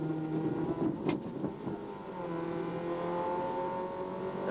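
A race car's engine roars from inside the cockpit during a British motorsport race in 1990, revving hard and steady with a brief sharp transient as the car slides sideways, loud and close throughout.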